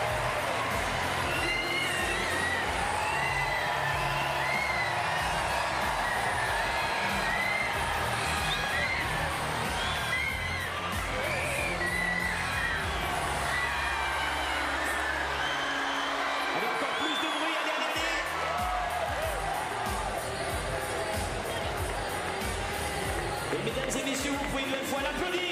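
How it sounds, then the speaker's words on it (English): An indoor arena crowd at a wheelchair tennis match in Paris, under a closed roof, cheers, whoops and shouts in a loud sustained roar that swells and dips over time, with an announcer's voice heard over it. "Fans are gonna want it, so cheer loud."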